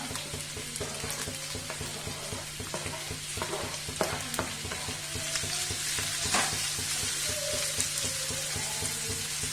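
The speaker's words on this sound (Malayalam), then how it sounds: "നമുക്കിത് സവാള നന്നായിട്ടൊന്ന് മൊരിച്ചെടുക്കണം കേട്ടോ." Sliced onions, two medium ones with a little salt, fry steadily in a hot pan, a continuous close sizzle broken by scattered clicks of stirring, with no talk.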